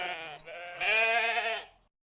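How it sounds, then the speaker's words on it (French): Sheep bleat in two or three close, wavering cries that run together, the last one loudest and longest, with no voices around them. "Et les moutons pleuraient leurs frères disparus."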